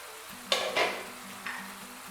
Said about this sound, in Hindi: इसको अच्छी तरह भूनेंगे तकरीबन 3-4 मिनट।